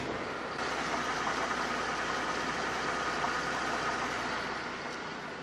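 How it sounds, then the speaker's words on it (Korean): A Mercedes-Benz E-Class 280, third generation with a rebuilt engine, idles with the hood closed, giving a steady, smooth and quiet hum heard close by without interruption. "연식에 어울리지 않는 정말 정숙한 엔진 소음 기대하실 수가 있습니다"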